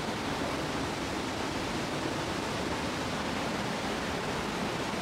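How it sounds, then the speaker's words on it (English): Steady broadband rush of water running at the mouth of an old uranium mine in Wentworth Valley, a constant close wash with no clear separate drips standing out. "Got some water running here."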